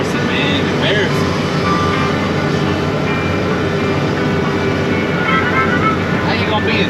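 Heavy truck engine running steadily at a pond dig site, a continuous loud low rumble throughout with faint reversing beeps and clanks on top.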